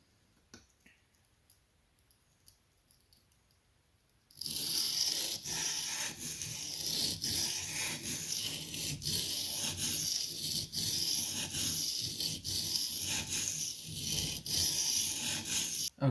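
A Hinderer XM-18 knife blade sharpened on a 240 grit silicon carbide stone, near-silent at first with faint clicks, then continuous loud gritty rubbing and rasping strokes in a steady back-and-forth rhythm.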